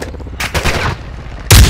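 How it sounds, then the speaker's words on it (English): Gunfire in a Call of Duty match: several loud bursts of shots, one burst early, a longer rattle in the middle, and a heavy, booming blast at the end. "You are taking effective fire."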